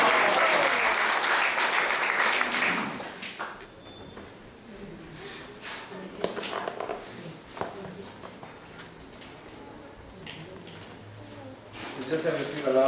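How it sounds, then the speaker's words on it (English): An audience at a Sunday temple class at ISKCON Atlanta breaks into loud, dense applause for about three seconds, which then fades into quiet room noise with scattered sounds, and a voice speaks near the end. "Let's give her a round of applause for her also"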